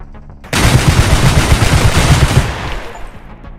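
Receiver 2 gunfire starts abruptly after a short pause, a dense, loud run of rapid shots lasting about two seconds before trailing off into a fading echo.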